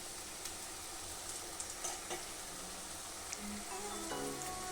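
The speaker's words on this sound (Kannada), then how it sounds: "ಹಸಿಮೆಣಸಿನ್ಕಾಯಿ ಎಲ್ಲ ಹಾಕಿರ್ತೀವಿ, ಸ್ವಲ್ಪ ಎಣ್ಣೆಯಲ್ಲಿ ಚೆನ್ನಾಗಿ ಫ್ರೈ ಹಾಕಬೇಕು" Green chillies fry in a little oil for masala chitranna, giving a quiet, steady sizzle with a few soft stirring clicks and scrapes, with no voices.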